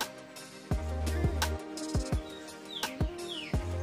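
An oriental magpie-robin sings varied whistles and sharp chirps in short phrases, fairly close, over a busy background with low thumping sounds.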